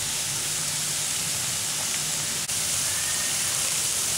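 Mint and coriander with mushrooms sauté in a pan for a Tamil mushroom soya curry, producing a continuous hiss and sizzle with one brief dip partway through and no speech.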